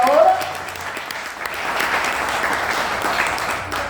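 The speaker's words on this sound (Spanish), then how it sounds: "Denle un aplauso al Señor por eso" A church congregation applauds during a sermon, a dense steady wash of many clapping hands that follows a brief voice and holds for several seconds.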